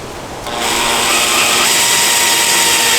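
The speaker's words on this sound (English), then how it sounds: "And now we're gonna drill it." A power drill with a small guide bit whirs up after a brief quiet start and runs steadily at high speed, close and loud, drilling a hole to mount a spare wheel on a Lexus GX470, with no talking.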